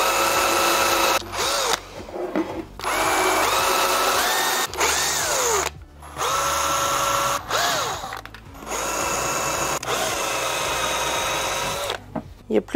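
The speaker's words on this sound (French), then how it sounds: "Il n'y a plus qu'à percer." Power drill boring holes while assembling office desk furniture, several sustained whining bursts with rising pitch separated by short pauses, close and loud.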